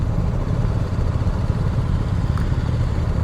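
A BMW G310R motorcycle engine running under way, a steady close buzzing drone with gritty low pulses and wind noise holding at an even level throughout, no voices.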